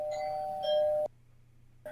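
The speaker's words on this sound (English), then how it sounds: "was that Brunt at the door, or was that someone's real doorbell?" A doorbell chimes in a two-note ding-dong, clear and moderately loud, then stops into near silence before a faint new sound starts.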